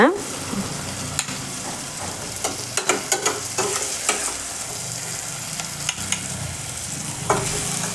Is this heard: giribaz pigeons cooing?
no